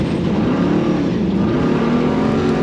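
Off-road race truck engine on a Baja rally stage between San Felipe and Bahía de los Ángeles, a loud steady droning roar held close for a few seconds with no talk.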